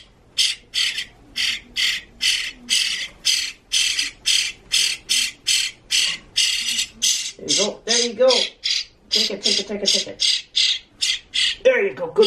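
A pet bird being hand-fed worms gives loud, rapid, repeated squawks in a fast pulsing series, close to the microphone, with some harsher raspy calls partway through and no clear talk over it.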